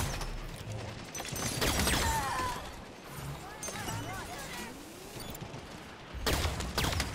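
Rapid bursts of automatic gunfire and firefights in the video game Halo 5, crackling volleys that come and go in clusters, heard under excited talking.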